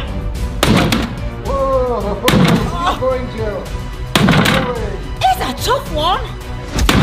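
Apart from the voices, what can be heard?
bedside cabinet breaking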